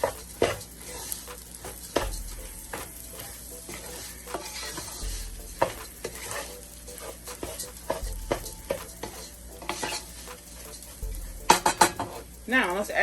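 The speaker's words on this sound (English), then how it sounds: "Let's give that a stir." A utensil scrapes and clinks against a pan while food is stirred with garlic powder mixed in, under a soft sizzle, the strokes coming in quick irregular bursts close by.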